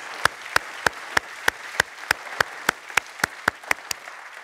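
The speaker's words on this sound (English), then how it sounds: "So I'm going to give you one more round of applause for all that you do for St. Malachy Catholic Church." A church congregation at St. Malachy Catholic Church clapping in unison, about fourteen sharp, evenly spaced claps in a steady rhythm, fairly close and clear with little else underneath.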